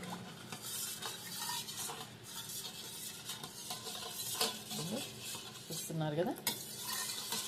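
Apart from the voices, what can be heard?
stirring turmeric and chili into food in pan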